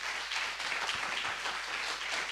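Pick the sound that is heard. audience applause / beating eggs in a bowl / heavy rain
audience applause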